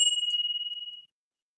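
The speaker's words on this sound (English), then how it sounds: "Stewie deserves the bell ring" A single clear bell ding rings out once, bright and metallic, with a pure tone that sustains and fades over about a second, with no voices around it.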